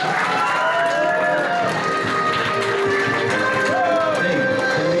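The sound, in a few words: audience applause at anime quiz show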